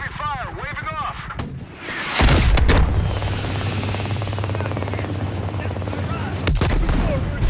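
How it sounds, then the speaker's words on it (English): Heavy gunfire and booming explosions in the Call of Duty Black Ops Cold War campaign, a loud sustained roar with sharp blasts, following a voice on the radio. "Taking heavy fire, waving off."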